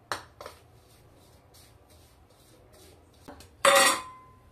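Semolina, gram flour, salt and turmeric being stirred together in a bowl: a few quiet scrapes and light clinks of a utensil against the bowl, ending in one sharper, louder clatter.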